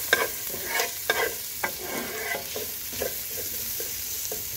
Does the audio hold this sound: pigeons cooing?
no